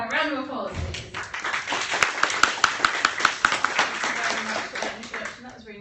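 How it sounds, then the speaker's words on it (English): A panel audience at a VR event gives a round of applause, a close burst of many hands clapping, with a few sharp individual claps standing out, while voices carry on faintly beneath. "Can we have a round of applause, please?"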